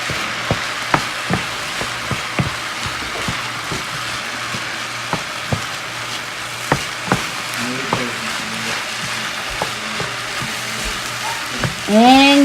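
Shrimp fried rice with hoisin sauce being stirred in a pan over high heat, a steady sizzle under repeated spatula taps and scrapes, with a brief squeak near the end.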